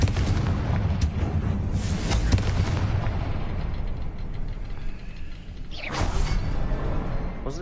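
A Confringo fire spell explodes in the Hogwarts Legacy game with a loud booming blast and rumbling debris that decays over several seconds, then a second fiery burst follows near the end.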